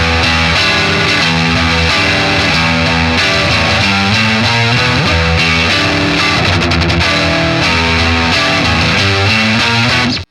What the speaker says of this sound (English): I'm not going to use delay. I'm just going to use distortion.